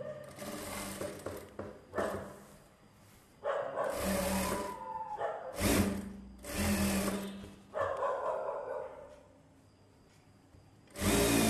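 A sewing machine stitches a silk blouse in several bursts of rapid, steady running separated by short pauses, close and fairly loud.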